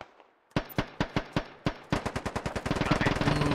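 Gunfire from the tactical shooter game Squad: a spaced run of sharp single shots builds into rapid sustained automatic bursts, loud and close.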